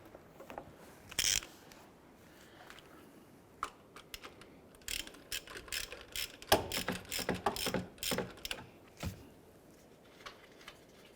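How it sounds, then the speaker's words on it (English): A ratchet fitted with a 19mm socket works loose the harmonic balancer bolt on a 2001-2005 Honda Civic, giving a quick run of sharp pawl clicks in bursts, close to the mic, with no talk. "Using a 19mm socket, we're going to head and loosen and remove the harmonic balancer bolt."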